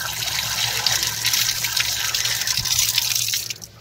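Cold mountain spring water collected from bamboo roots pours steadily from a spout in an Uttarakhand hill village. It makes a close, continuous gushing splash with no talk.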